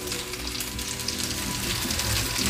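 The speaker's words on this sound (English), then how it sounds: "And I'm going to let that brown." Meat browning in a hot pan over a moderate flame gives a steady, close sizzle that holds evenly throughout with no speech.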